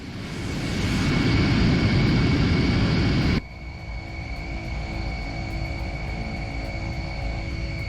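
A helicopter in the VR game Worlds at War roars loudly for a few seconds with a dense engine and rotor rumble, then cuts off abruptly, leaving a quieter steady hum with faint tones.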